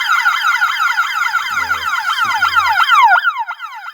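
An extremely loud aftermarket siren added to a Ring alarm system wails in rapid, repeating up-and-down sweeps, close and piercing, with a couple of faint thumps underneath.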